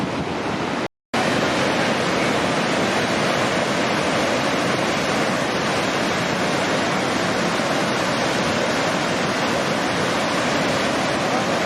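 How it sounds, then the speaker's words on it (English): Whitewater of the Aratiatia Rapids on New Zealand's Waikato River surges during a dam release, a loud, steady, close roar of churning water that continues without a break apart from a momentary dropout near the start. "This is the Waikato River, and it's called the Aratiatia Rapids."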